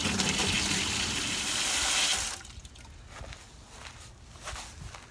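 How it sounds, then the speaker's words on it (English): Water pours and gushes into a planting hole dug in poorly draining clay soil, loud and steady for about two seconds before giving way to quieter trickling and shuffling. "I'm going to fill this hole with some water and see how quickly it drains."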